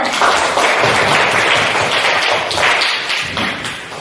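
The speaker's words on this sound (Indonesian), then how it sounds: "Kita berikan tepuk tangan" A classroom full of students applauds a student group after its presentation, a dense continuous clatter of many hands clapping at once with some thumps, loud and unbroken for several seconds.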